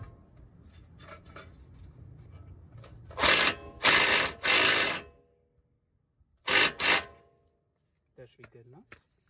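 A brake line fitting being tightened gives a few loud, close bursts of ratcheting clicks with pauses between them, and a voice talks quietly in the background.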